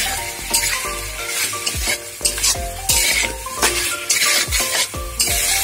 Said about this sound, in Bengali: এরপর আমি লাঠা মাছগুলো দিয়ে দেবো, খুব ভালো করে কষবো।